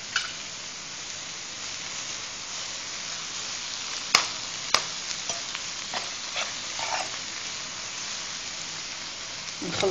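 Aubergine stuffing frying in a pan gives a steady soft sizzle, broken by clinks and scrapes of a utensil stirring it, close up with no talking.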